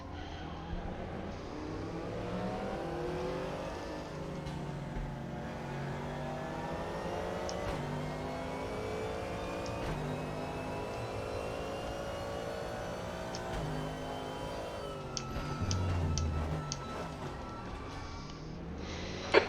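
Race car engines in a multi-class racing game at the Portimão circuit, a continuous loud drone with rising and falling pitch as cars accelerate, shift gears and a faster car closes in and passes, with a brief burst of louder engine noise near the end.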